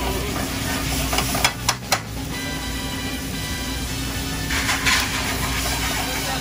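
Shrimp francese sizzles in a pan with lemon and a touch of flour, a steady frying hiss running throughout, broken by a few clattering stirs and scrapes near the middle.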